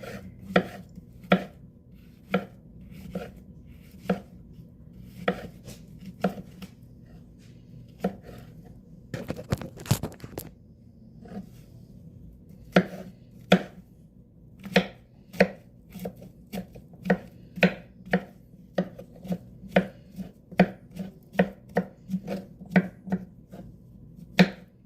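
A knife chops mushrooms on a cutting board in a run of sharp, close taps, mostly evenly spaced with a brief pause partway through, then speeding into denser strokes near the end.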